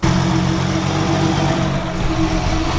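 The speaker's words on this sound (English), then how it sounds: "Listen to the lope now. It was idling way too high." An RB26/30 engine in a Nissan S14 Kouki idles steadily and fairly loud, with an uneven, rhythmic lope in its low rumble throughout.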